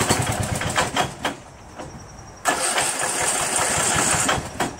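A Craftsman 13.5 mid rear engine riding mower starts up outdoors, with loud, close cranking bursts followed by a brief lull and then a steady running engine.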